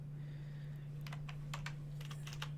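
Quick bursts of computer keyboard typing as a search is entered, a handful of close, crisp keystrokes over a steady low electrical hum.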